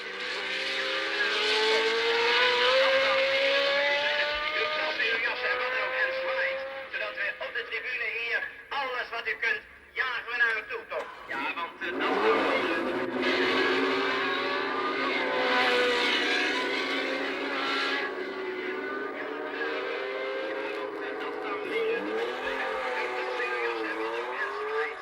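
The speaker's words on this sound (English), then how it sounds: "2 laps later, his rear tyre blew with the following results." A 1979 Formula 1 car keeps racing after its rear tyre blows, its high engine whine rising and falling loudly beneath continuous commentary from a speaker.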